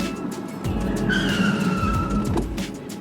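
A Subaru Evoltis brakes hard in a brake test and its tires squeal in a sustained skid lasting a couple of seconds, loud and close, ending with a thump as it stops.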